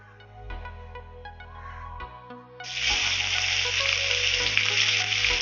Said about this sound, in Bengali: কড়াইতে তেল দিচ্ছি